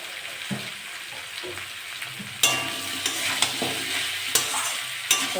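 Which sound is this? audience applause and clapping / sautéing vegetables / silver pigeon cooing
sautéing vegetables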